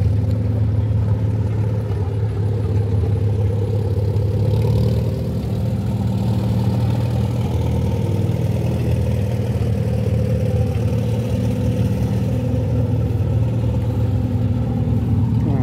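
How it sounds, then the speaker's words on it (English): A hit-and-miss cross engine runs at a tractor show in Greenville, Illinois, with a loud, steady, close-up chugging drone that holds for the whole stretch without a break and with no voices over it. "Here's a normal size cross engine"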